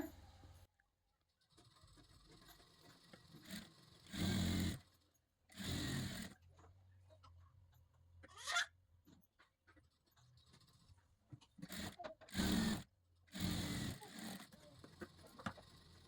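Sewing machine stitching a katori blouse runs in several short bursts of rapid whirring, close up, separated by quiet pauses with light handling sounds.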